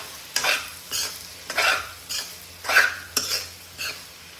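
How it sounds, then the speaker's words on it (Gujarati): Sago pearls stirred in a pan of hot oil, a spoon scraping the metal in steady repeated strokes, about eight crisp scrapes over a soft background sizzle, close and alone. "અને હવે આપણે સાબુદાણા એડ કરવાના છે"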